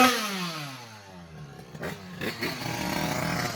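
Motorcycle engine accelerating on asphalt, the pitch sweeping upward through rising revs, then a rougher, fluttering roar, close and loud, with no talk.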